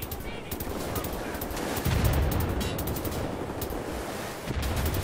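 Rapid, sustained automatic gunfire from a mounted turret in the shooter game Wolfenstein: The New Order, a dense continuous rattle of shots with brief pauses, loud and close.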